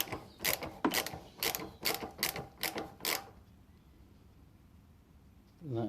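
Ratchet clicking as a 12mm earthing cable bolt is undone on a Toyota MR2 MK2 engine: seven or so close, loud bursts of rapid pawl clicks over about three seconds, then a quiet pause before a faint rising sound at the end.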